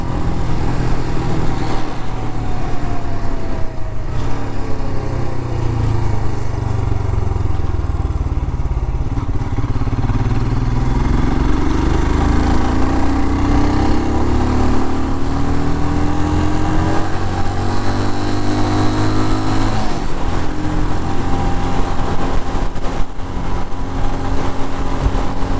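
A Royal Enfield Scram 411 engine thrums continuously while riding, rising and falling in pitch through gear changes, loud and close with wind noise over it.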